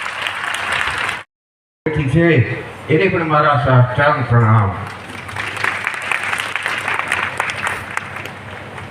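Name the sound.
audience applause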